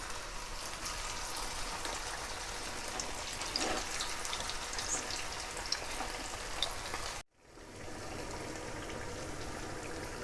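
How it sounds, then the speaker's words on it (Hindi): Cheese and potato sticks deep frying one by one in hot oil, a steady crackling bubble like light rain, moderately faint and close, briefly cutting out near the end before the sizzle resumes; no talking. "एक एक करके इस तरह से डालते जाएंगे और इन्हें फ्राई कर लेंगे।"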